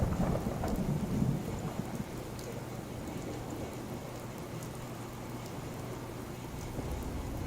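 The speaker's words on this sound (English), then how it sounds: "The rain comes right through that new roof section." Steady rain pours in the video game Fallout, coming through a newly built roof section, with a low thunder rumble early on and then an even, continuous hiss of rainfall.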